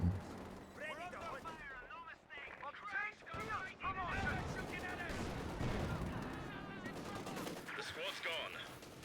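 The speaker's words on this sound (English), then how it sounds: "Call in with the artillery" Gunfire and shelling in a real-time strategy game battle, crackling bursts and distant thumps running steadily beneath an excited commentator's continuous talk.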